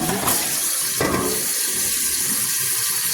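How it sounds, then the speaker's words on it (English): Cold water runs into a stainless steel water distiller from a tap, a close, steady splashing fill with a couple of sharp knocks early on, pouring on without talk. "I'm filling up with cold water again now that all the condensation came out of there."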